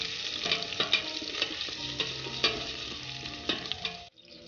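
Pork innards and ginger are stirred in a hot cooking pan, a close, steady sizzle of frying broken by repeated scraping strokes of the utensil, with no voices, until the sound cuts off abruptly near the end.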